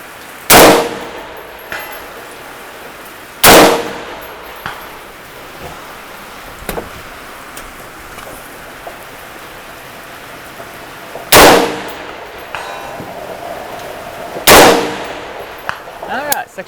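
6.5 Grendel rifle shots fired at steel targets 650 yards away, four loud sharp cracks spaced several seconds apart, each trailing into a brief decay, with faint distant clangs and quiet outdoor background between them.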